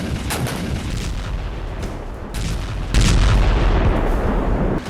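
Artillery explosions in the Ukraine war: loud, heavy booms and blasts burst out repeatedly over a constant rumbling din, with the biggest, longest blast coming near the end.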